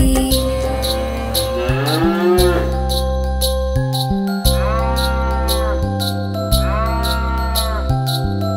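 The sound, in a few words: white cow mooing in a nursery rhyme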